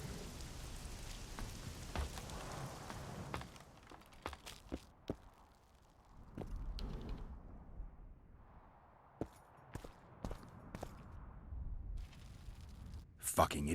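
Steady rain falls on a rainy night in The Witcher 2: Assassins of Kings, a dense hiss scattered with sharp, close ticks and thumps, continuous for the whole stretch with brief moments where the wash eases.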